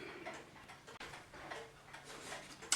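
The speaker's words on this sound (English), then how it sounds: "this giant cuckoo clock in the factory before it closed" An early 1900s giant cuckoo clock from a factory, ticking at close range with a steady, faint rhythm and no voices over it.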